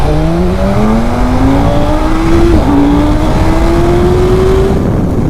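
KTM 1390 Super Duke and BMW M1000R motorcycles launching hard from a standstill together, loud close engine roar climbing steadily through the gears with a brief dip at a gear change, continuous and unbroken.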